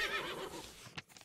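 A saddle horse in the western game Above Snakes lets out a shrill, wavering whinny that fades out, followed by a couple of soft snorting puffs before quiet.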